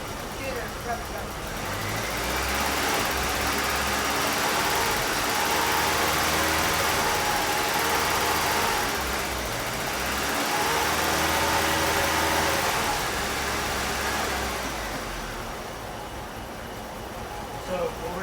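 A VW Fox with troublesome fuel injection idles and then revs up, a steady mid-pitched engine drone that swells and eases twice over nearly twenty seconds, close to the car.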